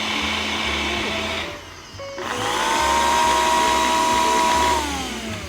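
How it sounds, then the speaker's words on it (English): A blender whirs loudly while blending vegan caramel sauce thickened with cornstarch and coconut milk. The motor dips briefly, then comes back at a steady high pitch before winding down, with no talking. "I'm just gonna put the lid on, and we're gonna put it onto the blender."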